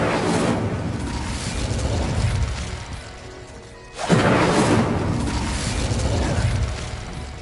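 Incendio fire spell cast in Hogwarts Legacy on PS5, a loud whooshing fiery burst with a sharp onset midway, set against a dense, continuous game soundscape.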